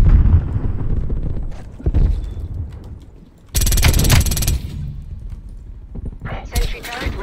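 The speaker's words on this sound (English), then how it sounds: "Artillery inbound" An incoming artillery strike in Call of Duty: Black Ops Cold War, heavy booming impacts with crackling gunfire around them, mixed with voices talking.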